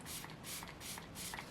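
Makeup setting spray misted in three short bursts onto a made-up face, each a soft, close hiss with brief pauses between.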